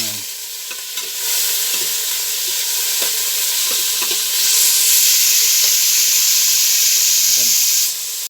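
Pork sizzles hard as it is sautéed in a pan, a loud, continuous frying hiss that swells midway, punctuated by a few stirring clicks, with no talk.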